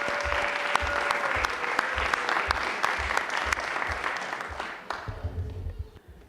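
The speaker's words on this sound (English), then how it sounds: "So I'd like to give them a round of applause" An audience at an Oradell Public School board meeting gives a sustained round of applause, steady and full before thinning into scattered claps near the end.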